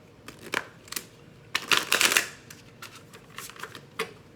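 Mudra cards are shuffled and handled by hand in a quiet room, giving a series of soft papery riffles and flicks, with a denser burst of shuffling in the middle.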